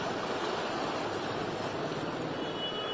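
Heavy monsoon rain lashes Mumbai amid strong wind, making a steady, dense roaring wash that stays loud and unbroken throughout, with no voices.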